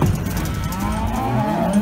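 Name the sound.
cows bawling on farm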